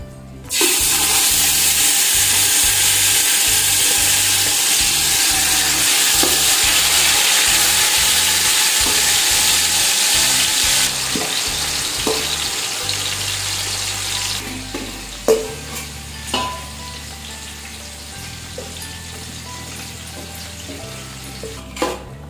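Chicken biryani frying in oil in a pan, a loud continuous sizzle with rhythmic stirring scrapes that later gives way to quieter bubbling and a few knocks of the utensil.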